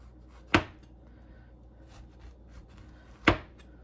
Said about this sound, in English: we're just going to follow the natural curve of the grapefruit and just really get all of this peel off.